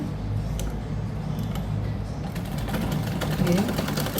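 A sewing machine stitching a blouse neck, running in a steady rapid clatter of ticking needle strokes, close and continuous.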